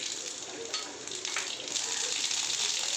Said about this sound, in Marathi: ते तेल तापलेलं आहे. आता टाकूया मोहरी,